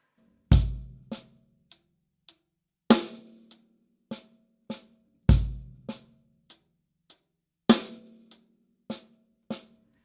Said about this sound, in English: we can just put a bass drum on beat 1 and beat 3.